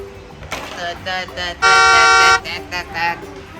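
A toy truck's horn honks close by, first in short electronic toots and then in one long steady blast, while someone speaks around it.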